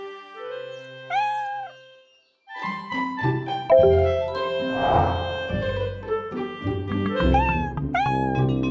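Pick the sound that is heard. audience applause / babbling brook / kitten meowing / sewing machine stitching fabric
kitten meowing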